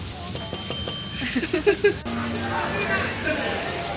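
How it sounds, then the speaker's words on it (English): A small bell at a luxury Bali resort rings in a quick series of bright dings to summon the butler, followed by a low hum and soft background rustle. "you just ring a bell"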